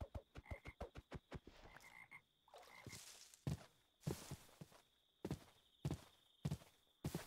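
Frogs in a video game croak in a quick run of close, rhythmic pulses, then in slower, spaced calls, over soft shuffling steps in a quiet scene.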